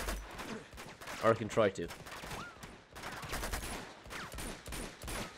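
Falcon pistol gunfire in Uncharted 2, with several bursts of sharp shots mixed with other in-game gunfire and effects, while someone talks over the action.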